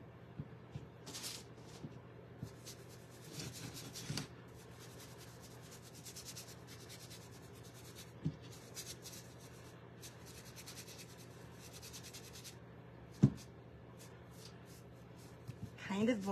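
A wet paintbrush rubbing and blending paint colours together on a painting, soft, faint scrubbing strokes with a low background hum and an occasional light tap.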